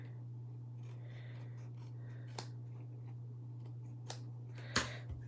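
Scissors cutting through paper card at a crafting table: a few crisp snips spaced seconds apart, the last one loudest, over a steady low electrical hum with no talk.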